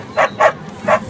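Three loud, close dog barks in an uneven rhythm, sharp yappy bursts with short gaps between them.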